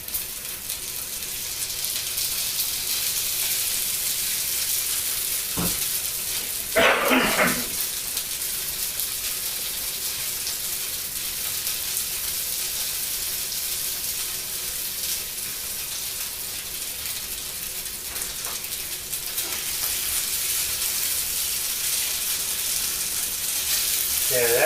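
Pieces of stuffed chicken frying in oil in a pan, a loud continuous hiss and crackle that swells briefly when food shifts, steady throughout without talk.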